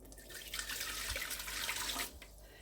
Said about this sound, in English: So I'm going to pour in the water,